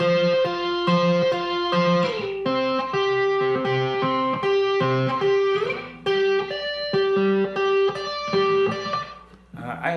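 An electric guitar with reverb and distortion plays a riff, ringing picked notes and sustained chords that wash into each other, loud and close with no voices.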